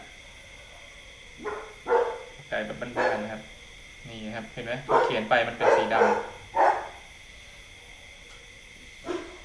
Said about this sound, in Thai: มีหมาเห่านะครับ